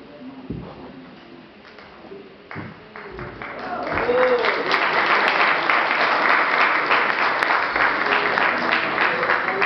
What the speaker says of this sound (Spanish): Un gran aplauso también